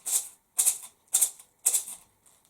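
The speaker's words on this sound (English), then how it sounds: "Rice gives a softer shushing noise." Four soft, hissing shakes of a plastic bottle filled with rice, each a brief shushing swish with a small trailing rustle.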